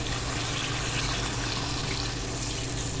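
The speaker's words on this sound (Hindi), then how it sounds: "अब इसको गलाने के लिए गोश्त को इसमें डालेंगे पानी" Water streams steadily into a pot of browned masala and chicken for haleem, a continuous gushing pour without talk.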